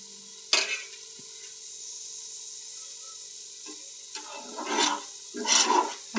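Grated coconut cooking in sugar syrup in a pan, a soft simmering sizzle with several bursts of stirring scrapes and bubbling, close and intermittent.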